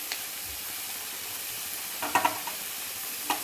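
Drumstick leaf chutney ingredients frying in a pan, giving a continuous loud sizzle with a few sharp crackling pops near the end.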